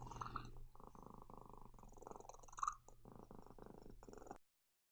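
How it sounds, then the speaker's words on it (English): A house cat lying on a person purrs softly and steadily in the background, a quiet rhythmic rumble with brief pauses that stops abruptly near the end. "This strange sound you hear in the background is just my cat, which came to lie on me and purr a little bit."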